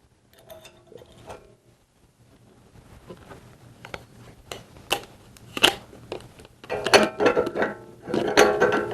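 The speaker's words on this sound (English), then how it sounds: "We will be stuffing the sausage into casings using the grinder." Meat grinder with a stuffing horn and auger pushing ground sausage meat into large casings for sandwich chubs, a quiet mechanical whir growing into louder bursts of grinding, squishing and clattering toward the end.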